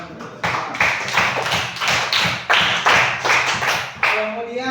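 An audience clapping together in a classroom-style session, a loud close burst of steady applause with rhythmic, evenly spaced claps throughout.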